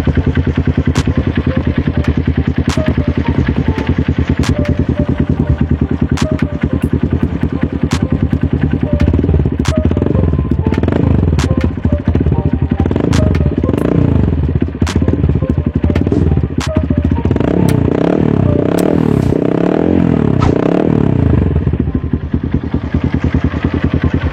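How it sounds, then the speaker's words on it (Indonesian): A Honda Verza motorcycle idles in neutral, its exhaust giving a steady, continuous low throbbing rumble with a faint clattering texture, close and fairly loud, no talk. "Suara knalpot dalam keadaan mesin netral."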